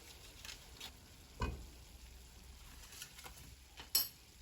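About three tablespoons of butter melt in a preheated pan with a soft, steady low sizzle, quiet and close, broken by a couple of brief clinks or taps.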